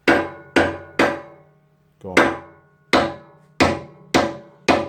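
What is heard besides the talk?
hammer tapping wheel cylinder in a vise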